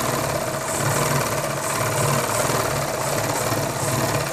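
Sewing machine stitching a second seam over an existing one on men's underwear fabric, a steady continuous mechanical whir with a regular rhythmic pulse, close and moderately loud, running alone without talk.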